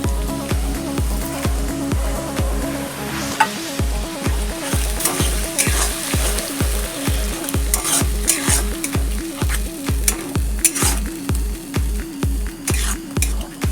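Tomato paste for chicken curry fries and is stirred in a pan, a steady bright sizzle under loud, regular scraping strokes that repeat about twice a second, close and continuous with no talking.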